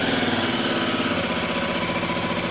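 A Royal Enfield Himalayan 450 motorcycle engine runs steadily after the ignition is turned, a close, continuous throbbing rumble with a fast even pulse and no talk over it.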